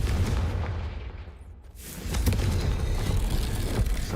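Confringo blast spell in Hogwarts Legacy, a heavy booming explosion with a whooshing surge, loud and sustained with rumbling low-end over continuous game combat noise.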